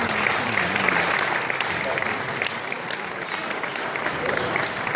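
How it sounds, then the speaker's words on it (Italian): A crowd at a cultural event applauds loudly and steadily for several seconds, a thick, continuous wash of clapping with faint voices mixed underneath. "facciamo un applauso"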